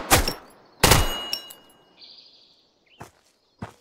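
Gunfire in the shooter video game Road to Vostok: two loud sharp shots close together, a fainter third, then distant scattered pops with a faint ringing tone in between.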